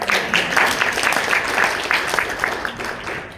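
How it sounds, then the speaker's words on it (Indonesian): A church congregation claps during a sermon, a sustained round of applause at moderate distance with sharp individual claps rising over a continuous wash. "Tepuk tangan."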